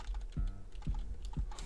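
Someone types on a computer keyboard while coding game credits, a quiet cluster of key clicks with three heavier taps spaced about half a second apart, close and alone.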